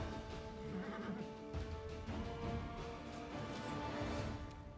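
Strange horses whinny and neigh amid battle din in the fantasy game Pathfinder: Wrath of the Righteous, a couple of drawn-out calls rising over a dense, busy backdrop of game sound and music.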